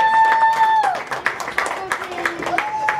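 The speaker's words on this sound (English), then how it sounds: "Can we give our helpers a big round of applause?" Brief scattered clapping from the crowd at a Halloween open house, rising as the speaker's voice trails off, with talking and children's voices over the applause.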